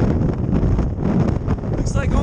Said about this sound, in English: This is sustained strong wind